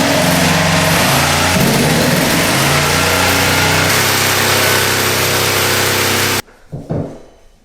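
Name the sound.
jigsaw cutting vinyl plank flooring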